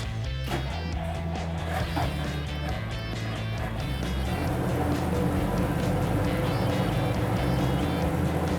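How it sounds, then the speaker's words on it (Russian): The first of the twin engines in a real M24 Chaffee light tank is started with the ignition and starter. It gives a loud, dense mechanical roar that settles into a steady, rough running rumble. "включаем зажигание для первого двигателя и нажимаем на пуск"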